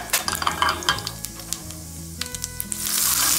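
Cumin seeds hit hot oil that already holds mustard seeds, tempering for boondi raita, and a loud close sizzle with popping crackles builds to a dense hiss toward the end.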